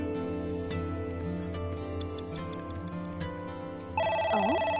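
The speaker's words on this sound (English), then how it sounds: "The phone is ringing." A telephone rings inside the video game AI: The Somnium Files, a steady electronic ring over a layered music background, with a brief bright chirp partway through.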